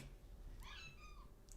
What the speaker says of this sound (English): That's my foster cat.